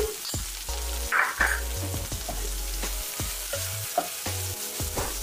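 Okra and onion masala (bendakaya ullikaram) with turmeric fries in a pan, a close, steady sizzle broken by repeated clicks and scrapes of stirring, with a low droning tone underneath.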